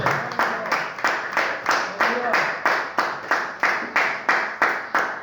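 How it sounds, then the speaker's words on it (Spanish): Rhythmic congregational clapping at a church service, steady and loud, beating in regular pulses about twice a second throughout. "Aplaude la gloria de Dios"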